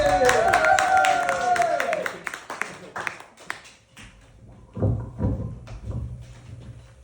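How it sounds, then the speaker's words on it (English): An audience in a hotel function room claps hands together, a dense burst of clapping under a voice that trails off, followed by scattered taps and thumps. "And now clapping the hands."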